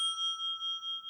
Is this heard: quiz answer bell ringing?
yes